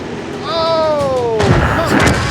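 Artillery fire in the World of Tanks video game, a heavy boom with a rumbling crash around halfway through, loud and close, preceded by a descending whistling tone.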